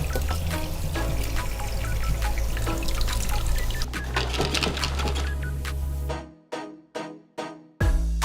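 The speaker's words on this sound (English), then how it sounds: "and poured in the Jinchan solution." Chemical solution poured into a glass beaker full of computer processors for gold extraction, a loud close gushing pour for about six seconds that breaks off into a few short splashes and trickles, with no talk.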